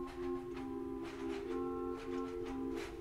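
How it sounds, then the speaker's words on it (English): Sustained chords on the Borstwerk manual of the Hinsz pipe organ in the Bovenkerk, Kampen, steady and direct with faint shifting upper ranks, heard alone at moderate loudness. "we've got the fourth manual, which is the Borstwerk"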